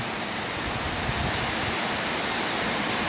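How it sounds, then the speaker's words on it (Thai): Heavy evening rain is driven by strong wind, making a dense, unbroken roar that holds at the same level throughout with no talking. "ทั้งฝนทั้งลมเลยครับ"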